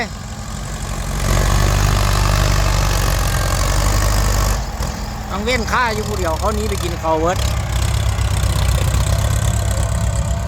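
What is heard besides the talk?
tractor engine idling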